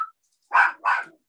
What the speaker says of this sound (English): You heard my puppy yell because the doorbell went off.